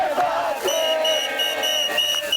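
A protest crowd chanting slogans in Tel Aviv where demonstrators lit flares and held banners, voices massed and loud, with sustained chant tones and rising shouts throughout.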